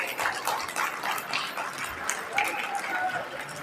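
An audience at a school's annual family gathering in Latur claps to thank the organisers, a faint, diffuse patter of many hands heard at a distance alongside some voices.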